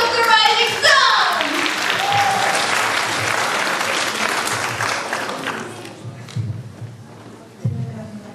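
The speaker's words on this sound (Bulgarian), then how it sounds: "Аплодисменти за Габриела с песента The House of the Risin" A school audience at a Christmas concert in Vidin gives loud, dense applause that is close and sustained, then gradually thins out into scattered claps and a few thumps.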